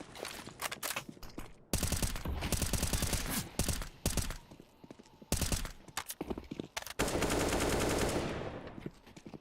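Bursts of AK rifle fire during a competitive Counter-Strike match, rapid automatic volleys in several separate stretches with short pauses between them, loud and close.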